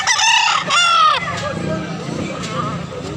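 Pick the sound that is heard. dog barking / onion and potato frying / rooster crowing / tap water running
rooster crowing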